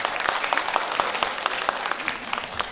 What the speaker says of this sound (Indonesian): kita berikan tepuk tangan yang meriah Bapak Ibu